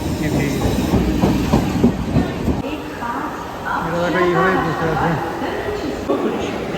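A train at a busy railway station near Dakshineswar rumbles and clatters close by, with hissing and rail-car noise, while people talk over it.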